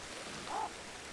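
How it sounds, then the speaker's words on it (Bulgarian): Steady rain falls in a monkey-raising video game, a soft even hiss throughout with one slightly louder patter in the middle, no voices. "Господи, спри този дъжд!"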